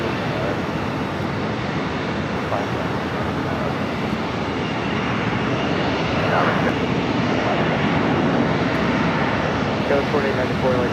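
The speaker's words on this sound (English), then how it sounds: "That's a LOT Polish Dreamliner heading back to Warsaw." A LOT Polish Airlines Boeing Dreamliner jet departs LAX, its engines a loud, steady broadband roar sustained throughout, with a voice talking over it.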